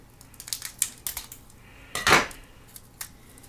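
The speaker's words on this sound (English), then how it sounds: "I'm going to cut these sprinkles open." Scissors cut open a plastic package of sprinkles for an Easter surprise toy, giving a few crinkly snips and rustles followed by one louder, longer crunching cut near the middle, close and with no talking.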